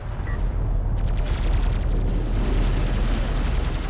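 Units in the strategy game Homeworld: Deserts of Kharak exchange heavy gunfire, a dense, rumbling barrage of rapid shots and booms that continues without pause, loud and constant throughout.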